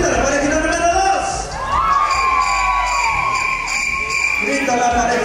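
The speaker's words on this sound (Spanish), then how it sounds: "Grita la parejita número 2." At a couples' dance contest in Charlotte, North Carolina, a packed room erupts in loud, sustained cheering, with shrill screams and whoops surging over a steady roar of voices.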